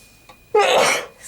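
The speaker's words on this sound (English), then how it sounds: "I feel a sneeze coming on." A single sharp human sneeze bursts out close by after a brief breathy intake, ringing loud for about half a second before trailing off, with no talk around it.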